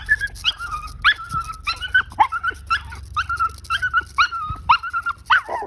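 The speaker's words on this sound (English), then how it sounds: "He jumps up, he barks and screams for attention." A dog yelps and whines in a rapid, excited series of high-pitched barks and whimpers, close by and fairly loud, with no pauses longer than a moment.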